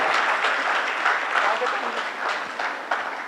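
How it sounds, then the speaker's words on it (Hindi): Audience applause at a Hindi poetry recital (kavi sammelan) in Ajmer, a dense, steady wash of clapping from a large crowd throughout, with a few sharper bursts and cheers mixed in. "एक बार तालियां बजाकर अच्छा गीत पढ़ने की अनुमति प्रदान कीजिए"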